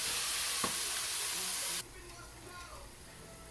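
Chicken biryani masala sizzles and hisses loudly in a pan, with a single stir scrape early on; the frying suddenly drops to a softer, steady simmer partway through, as if covered.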